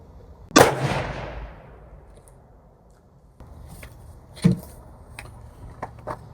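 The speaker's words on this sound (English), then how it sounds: "Here comes the first shot." A single sharp rifle shot cracks out at an outdoor range, loud and near, its echo trailing off over a second or two, followed by quieter clicks and handling sounds.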